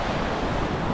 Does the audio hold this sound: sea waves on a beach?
yes